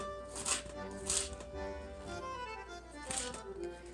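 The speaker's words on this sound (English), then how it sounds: "now I'm going to turn the cutting board while still holding that bunch together and cut them the other way." A knife chops through apple on a cutting board while making coleslaw: a few sharp, close chops spaced about half a second to two seconds apart over a steady low hum.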